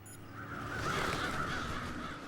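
Several crows caw in a Resident Evil Requiem game scene, a steady overlapping chorus of harsh calls at moderate loudness lasting the whole moment, with no talk over it.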